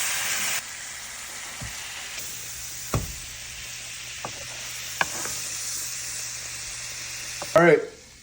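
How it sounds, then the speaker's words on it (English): Torched meat sizzling steadily in a low, constant hiss with little bubbles, with a few sharp clicks and taps and a brief clatter near the end. "Get the sizzle with the little bubbles."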